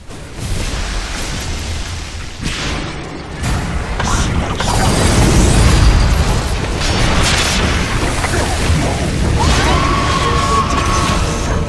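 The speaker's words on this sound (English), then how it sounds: "Your bottom tower has fallen." A defensive tower collapses in the Dota 2 video game, a loud sustained crumbling rumble with booming impacts and debris crashes lasting several seconds, mixed with game effects and faint voice-like sounds.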